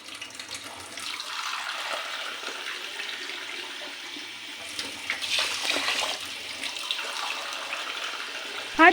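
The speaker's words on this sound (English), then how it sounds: "Add 2½ cups of water into the pot." Water pours steadily into a cooking pot of drained rice, a continuous splashing rush that shifts in pitch as it fills, with no talking.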